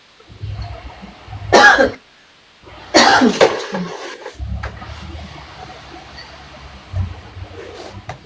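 Two bursts of harsh coughing, a short one then a longer fit, close to the listener, separated by quiet pauses and faint low rumble.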